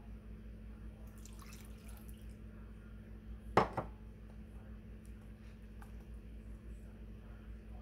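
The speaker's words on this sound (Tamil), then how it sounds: "மிச்சம் பாலை ஊற்றுறேன்." Leftover milk splashes briefly into cupcake batter in a bowl, one short liquid pour in the middle of a quiet, steady room hum, close and soft with a couple of faint drips after.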